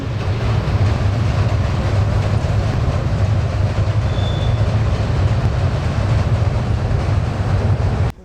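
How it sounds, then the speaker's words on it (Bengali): A train rolls past near Hardinge Bridge in Pakshi, Pabna, its steady loud rumble and rail clatter filling the scene continuously before cutting off at the end. "ওই সাইডে ট্রেন যাচ্ছে ট্রেন"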